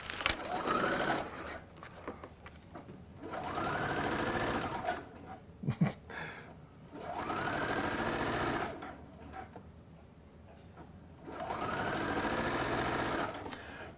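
A sewing machine stitches Witcher cosplay armor in four distinct bursts of rapid mechanical whirring, each lasting a couple of seconds and separated by quieter pauses, heard up close.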